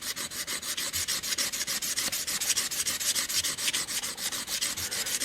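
A single-bevel broadhead is rubbed back and forth on a diamond sharpening plate, a fast, regular rasping scrape repeating about four times a second, close and clear with no talk.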